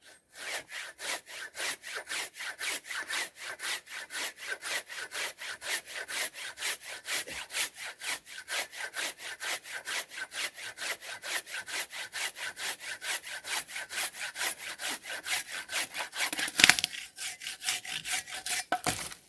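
A hand saw cuts through a dry spruce log more than 20 centimetres thick outdoors, steady rapid back-and-forth strokes rasping on and on at a close, moderate level.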